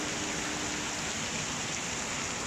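Steady rain falls outdoors on a monsoon-season fishing trip for sebarau, a dense, even hiss that lasts the whole moment with no talk over it.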